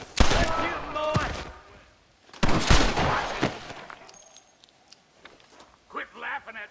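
Gunfire in the Western video game Red Dead Redemption, a few sharp loud shots in separate bursts with gaps between them, mixed with talking voices.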